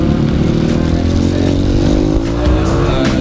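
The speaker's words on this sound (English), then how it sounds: "Ito yung dirt bike." A Honda CRF 150L dirt bike engine runs steadily close by, a continuous buzzing drone with a slight rise in pitch toward the end, with no talk over it.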